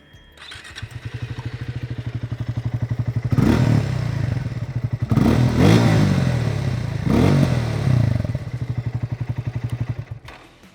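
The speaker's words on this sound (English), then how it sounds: "the exhaust note on the Speed T4 has more bass and has a burbly character to it" A Triumph Speed T4 motorcycle idles with a deep, burbly, bassy exhaust note, close by, then revs up in three throaty bursts before settling back to the steady pulsing idle.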